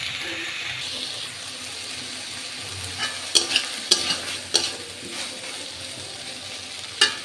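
Eggplant fries in a pan of cooked-down spice paste with a quiet sizzle, while a spoon stirs and knocks against the pan in several sharp clatters.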